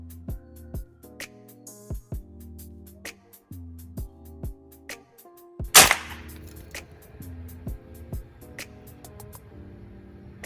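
A PCP air rifle loaded with pointed Samyang pellets fires a single loud, sharp crack midway through, preceded by quiet metallic clicks and handling noises.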